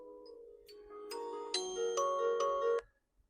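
A short melodic phone ringtone plays a few bright chiming notes in a quiet room, faint and clear, then stops abruptly without any voices.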